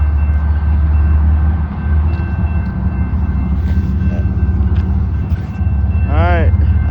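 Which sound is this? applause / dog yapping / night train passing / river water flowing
night train passing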